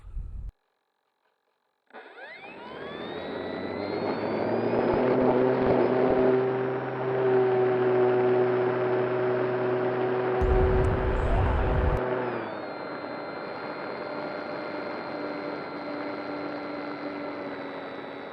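An RC model airplane's motor spins up and holds a steady high-pitched whine and drone as heard from the onboard camera, with a sharp rising tone at the start and a drop in pitch near the end.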